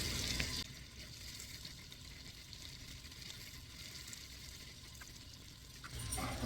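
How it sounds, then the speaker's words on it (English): Onions and Cubanelle peppers sauté in leftover sausage drippings in a pan, a steady soft sizzle with a brief louder rustle at the start and end, alone without talking. "I just saute that up into the drippings left over in the pan"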